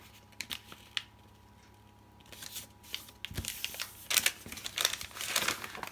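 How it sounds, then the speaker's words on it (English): Paper folded by hand while making a signature for a journal cover: close, soft rustles and crinkles, building into denser crisp crumpling and creasing sounds toward the end, with no talking. "And then fold that one back that way."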